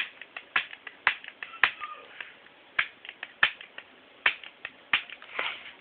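A spark igniter on a full-auto potato cannon clicks sharply again and again in an uneven rhythm, each snap crisp, close and alone with no voices over it.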